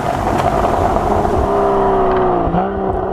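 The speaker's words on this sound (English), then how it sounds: "I love the sound of this car." A Porsche drives a winding mountain road in Majorca, its engine loud and steady throughout, with the pitch rising and falling as the car accelerates and shifts through the bends, and no talk over it.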